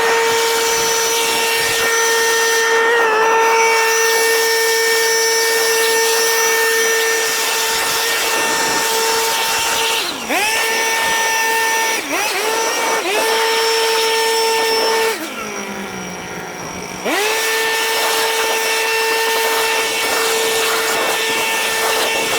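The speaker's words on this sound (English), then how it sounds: "I'll get my backpack blower and we'll get it cleaned out" A backpack blower runs loud and close with a steady high whine while cleaning out equipment, its pitch dipping sharply several times as the throttle eases off and then recovering.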